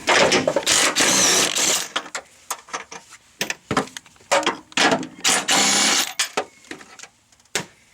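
A wrench works the 18 mm engine mount bolts on a Saturn Vue with a 2.2 engine, producing loud bursts of ratcheting and metallic clicking in uneven close spurts separated by short pauses.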